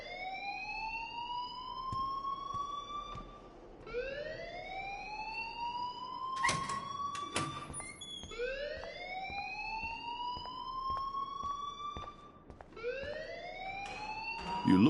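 A rising, wailing alarm repeats in slow cycles in a video game, loud and continuous, each sweep climbing and dropping back, with sharp clicks scattered through it.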